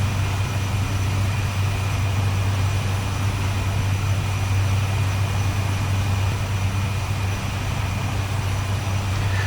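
The turbine engine of a DHC-3 aircraft in cruise makes a steady, loud cabin drone with a strong low hum and constant high whine, unbroken throughout and heard without voices.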